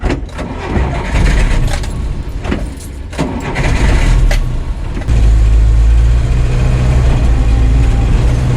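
An old communist-era fire truck, a Robur or FSC Żuk, cranks with several rough starter bursts before its engine catches and settles into a loud, steady idle close by.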